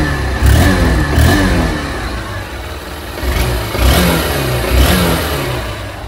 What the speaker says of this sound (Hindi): सबसे पहले आप इसके एग्जॉस्ट के साउंड को सुने क्योंकि नया इंजन है